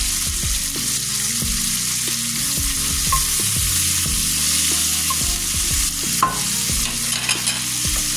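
Onion fries in oil in a pan with a steady close sizzle, while a utensil stirs and scrapes repeatedly in an uneven rhythm, with no talking.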